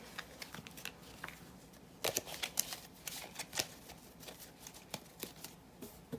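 A deck of tarot cards is cut and shuffled close by, with crisp papery riffles and slides that grow into a busier run of sharp snaps midway, then ease off.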